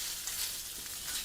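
Chicken pieces with oil frying on a Vevor 22-inch flat top griddle, a steady close hissing sizzle with faint crackles and no talking.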